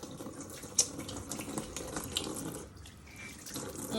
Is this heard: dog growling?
no